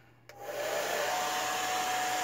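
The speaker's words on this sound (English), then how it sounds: "I'm gonna use the blow dryer real quick" A blow dryer switches on after a short quiet moment and runs with a steady, loud whooshing roar, drying a custom Funko Pop figure. No one speaks.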